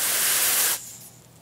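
A sharp, steady hiss from an aerosol can of freezer spray cooling a diode for under a second, then it cuts off abruptly, leaving quiet.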